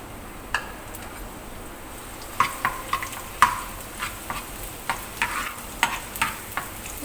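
Onion, garlic and dried chili go into hot oil in a pan, giving a low steady sizzle with repeated sharp clinks and scrapes of a spatula stirring, close by and with no voices.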